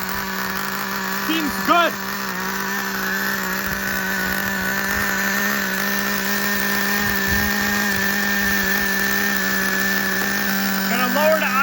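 A Traxxas Revo RC car's nitro engine runs steadily at a high-pitched buzzing idle, loud and continuous, with a brief throttle blip near the start and another near the end, while someone talks briefly over it.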